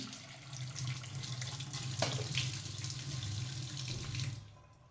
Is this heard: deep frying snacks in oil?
no